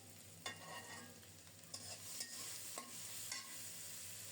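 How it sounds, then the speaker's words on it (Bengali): Chopped garlic and onion sizzle softly in oil with a low, even hiss, and several distinct scraping strokes of a spatula stand out, with no voices. "ওই তেলেই দিয়ে দিলাম রসুন আর পেঁয়াজ কুচানো"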